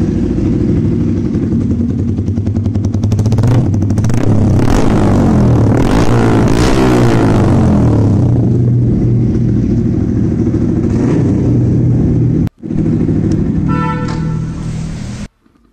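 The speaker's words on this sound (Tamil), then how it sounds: "ஸோ அந்த எக்ஸாஸ்ட் சவுண்டை போய் கேட்கலாம்." A Yamaha R15 v3 motorcycle with a modified exhaust idles loud and close, then revs up sharply and settles back to a steady rumble before cutting off near the end.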